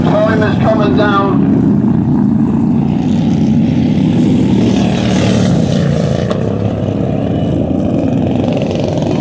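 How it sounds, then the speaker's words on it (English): Racing motor mowers with low-slung 18 horsepower V-twin engines roar continuously at close range at a vintage fair in Cornwall, a steady loud drone with no breaks. "Motor mower. Low V twin. Motor mower racing. 18 horsepower."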